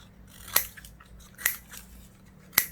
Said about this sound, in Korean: 근데 나뭇잎 같은 경우를 여러분이 사용하려면 가위로 잘라줄게요.